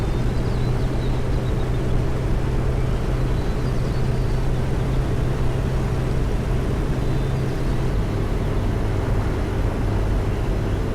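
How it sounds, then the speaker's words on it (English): A big Neoplan Skyliner coach diesel engine drones along at low revs in FERNBUS Coach Simulator. The hum is steady and even, with a deep throbbing tone throughout and no talking. "Big sort of diesel engine just loping along."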